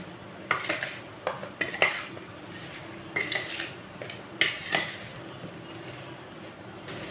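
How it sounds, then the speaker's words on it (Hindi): A spoon stirs guava chaat in a bowl, tapping and scraping against it. Clicks come in short clusters with pauses between them, close and fairly crisp. "अब चम्मच के साथ में मिक्स कर लेंगे, हाथ में ना मिर्ची लग जाएगी"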